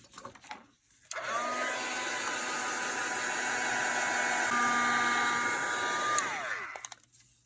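Hair dryer blowing on a sprayed paper craft page for a handmade junk journal, a steady loud whirring hiss that starts abruptly, holds for about five seconds and cuts off, with no talking.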